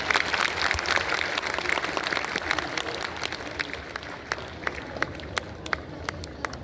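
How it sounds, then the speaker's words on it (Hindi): A hall audience at a formal event at Bharat Mandapam gives a guest a warm round of applause: a dense, sustained wash of clapping with sharp individual claps popping out, heard from a moderate distance. "जोरदार तालियों द्वारा अभिनंदन।"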